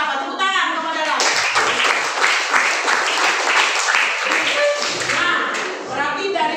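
Students in a classroom clap for a classmate during a teaching-practice lesson, a dense burst of hand claps lasting several seconds with voices mixed in.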